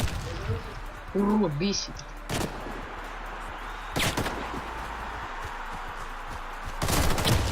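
Sniper gunfire in a video game: a few sharp, loud shots spaced a second or more apart over a low background din, with someone talking briefly in between.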